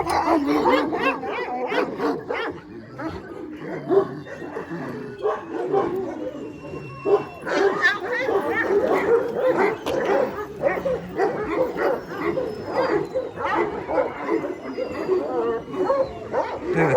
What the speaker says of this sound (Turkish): Şimdi tabii dışarıda da bizim köpeklerimiz var, akbaşlarımız var e, kafesleri de var.